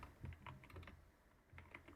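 Typing on a computer keyboard, a run of quick, irregular close-up key clicks with short pauses between bursts, no voices.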